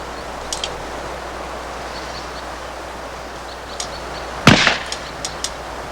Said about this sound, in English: First, they use a lightweight cartridge, like a plastic bullet.